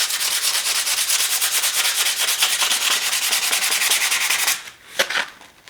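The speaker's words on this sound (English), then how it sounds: "I just rubbed it down pretty good with that sandpaper." A metal surface in a blacksmith shop is rubbed with 320 grit sandpaper in fast, steady back-and-forth strokes, loud and close, then the strokes stop and a few scuffs and taps follow.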